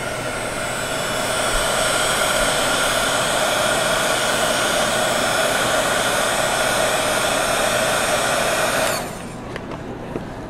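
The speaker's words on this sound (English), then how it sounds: "So I'll go ahead and dry this with my heat tool again." A handheld heat tool blows steadily to dry faux gilded paint, a loud continuous airy whir with a tonal hum that runs unbroken for about nine seconds before cutting off, leaving near silence.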